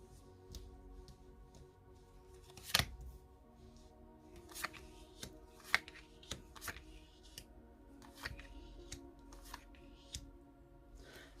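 Tarot cards shuffled by hand in a quiet room: soft, irregular riffling and flicking with several sharper slaps, close and fairly faint, with no talk.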